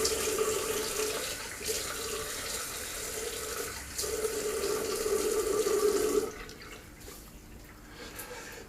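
Water runs steadily from a tap into a sink during face rinsing, a close, fairly quiet splashing flow that cuts off after about six seconds, leaving faint room tone.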